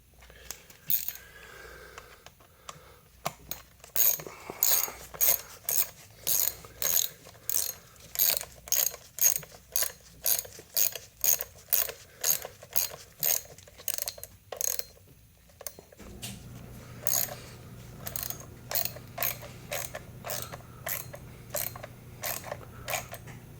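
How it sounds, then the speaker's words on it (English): A small 1/4 inch ratchet tightening bolts on a 2008 Suzuki Forenza 2.0L engine during timing belt work, giving a long regular series of sharp close clicks, then a pause and further clicking over a low hum. "I'm just using a little 1/4 inch ratchet"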